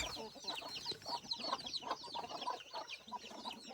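Several chickens cluck and chatter close by in a busy, overlapping stream, with no voices present.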